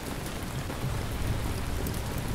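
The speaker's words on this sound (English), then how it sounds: "this is why we can hear thunder when we play low but not on any higher speed" Rain pours steadily in the city-building game Ancient Cities, a dense, constant hiss of falling drops with a low rumble of thunder underneath.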